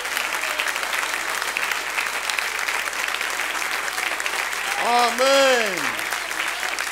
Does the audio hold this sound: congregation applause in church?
yes